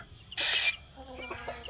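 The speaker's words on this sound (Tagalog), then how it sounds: "So ito yung mga sisiw ko." Week-old incubated chicks peep in a brief high chirping burst followed by a few softer cheeps, close by, with no talk over them.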